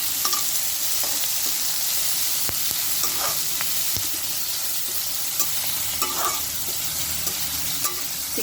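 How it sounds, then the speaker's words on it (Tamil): Onions and curry leaves sauté in a hot pan for a chicken liver fry, giving a steady loud sizzle with occasional scraping stir strokes and no talking. "வெங்காய கருவேப்பிலை நல்லா வதங்கி வரட்டும்."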